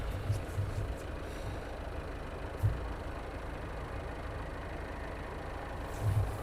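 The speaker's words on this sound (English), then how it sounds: "that's that aircraft there doing an engine test that we can hear" A Eurofighter Typhoon jet engine test run at RAF Coningsby drones faintly in the distance as a steady, low roar, with a few brief bumps standing out over the constant hum.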